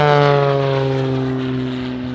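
An aerobatic propeller plane tumbles end over end through a front flip at the Oregon International Airshow, its engine a strong droning buzz that holds steady and slowly fades as the aircraft moves off, with no voices.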